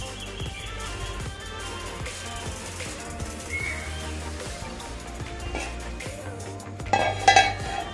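Limes being mixed with rock salt in a clay mud pot give a steady run of soft stirring, scraping and faint clinks, with a brighter rattle near the end.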